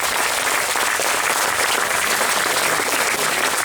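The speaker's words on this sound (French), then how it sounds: "Vous pouvez applaudir Jean-Philippe." A crowd applauding for a man named Jean-Philippe at a jubilee gathering in honour of a priest, a dense, steady wash of many hands clapping, loud and sustained throughout with no voices standing out.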